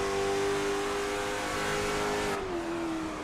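A late model race car driven by Brian McCann circles the Montreal circuit, its engine holding a loud steady drone near the microphone before the pitch drops as it eases off.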